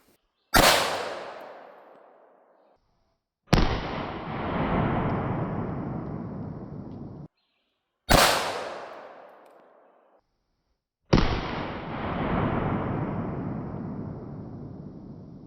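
.45 ACP 230 grain full metal jacket rounds fired at 3D printed body armor, four sharp, loud gunshots spaced a few seconds apart, the second and fourth followed by a longer rolling echo.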